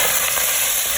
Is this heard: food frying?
yes